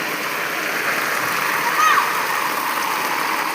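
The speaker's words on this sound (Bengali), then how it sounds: "দেখো আমাদের এখানে কত বৃষ্টি হচ্ছে" Rain pours down steadily outdoors where water has pooled all around, a broad, even hiss that stays fairly soft and constant throughout, with a brief faint sound rising briefly in the middle.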